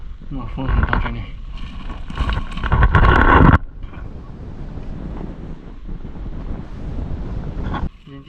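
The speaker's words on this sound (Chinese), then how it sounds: "风很大这里" Strong wind buffets the microphone at a sinkhole, roaring loudest in the first few seconds before easing into a steadier rush, with voices talking faintly through it.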